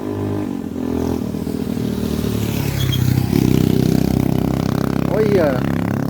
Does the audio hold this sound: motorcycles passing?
yes